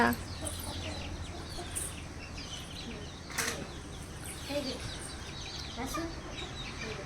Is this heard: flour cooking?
no